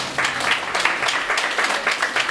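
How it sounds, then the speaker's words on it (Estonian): Audience applause at an award ceremony, a steady wash of many hands clapping together for the whole stretch, fairly loud and close with no break. "Aplaus!"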